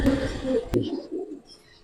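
Giribaz pigeons, silver khaki and army-coloured birds, coo in low, soft, rolling phrases that fade out toward the end, alone with no talk.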